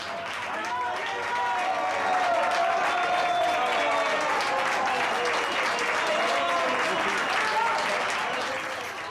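Sustained applause from an election-night crowd, swelling and then tapering, with cheering and voices mixed into the clapping.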